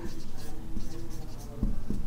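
A pen scratches on paper in short, close strokes while a person talks over it, with a couple of soft taps near the end.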